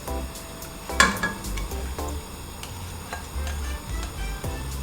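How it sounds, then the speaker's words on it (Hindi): Onions frying in about four to five spoons of oil in a pan for meatball curry: a soft, constant sizzle with occasional clinks of a utensil against the pan, close by and without talking. "प्याज को अब हम फ्राई करेंगे।"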